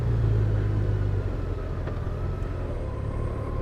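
A 2023 Honda Gold Wing motorcycle engine rumbles steadily while riding, a low, continuous drone with wind noise and no talk.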